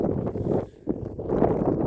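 Gusty wind buffets the microphone in loud, uneven rushes, dropping briefly before roaring back, with no voices.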